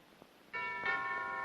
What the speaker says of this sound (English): I'm sure I heard that doorbell ring